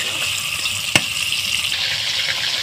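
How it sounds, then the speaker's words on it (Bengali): Potatoes fry in a pan with a steady, close sizzling hiss and one sharp clack partway through. "আলুটা আমার সুন্দর করে ভাজা হয়ে গিয়েছে"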